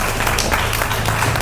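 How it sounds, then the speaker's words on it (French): A crowd at a French children's rights performance applauds loudly, with a dense, continuous wash of clapping and cheering throughout. "On acclame très très très très fort"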